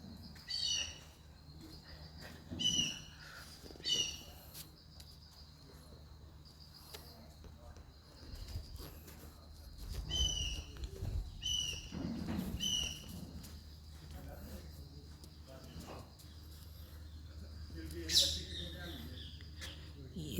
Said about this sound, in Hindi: ये प्यारा सा पक्षी